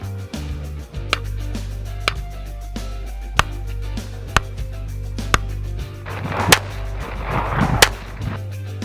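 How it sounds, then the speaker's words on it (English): Target shooting in the Lechuguilla Desert: sharp gunshots crack out one at a time at irregular intervals of roughly a second, with a denser patch of activity near the end, over a steady low hum. "we decided to practice with our guns a bit and did some target shooting"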